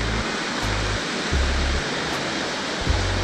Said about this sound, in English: I don't see the waterfall. I hear it.